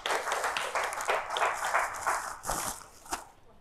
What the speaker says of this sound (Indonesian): Kita beri tepuk tangan kembali untuk Ibu Presi.